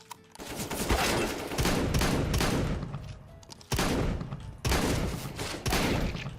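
XM1014 shotgun fire in a first-person shooter game, with loud, heavy blasts in quick bursts and sharp attacks followed by short pauses, with no talk over it.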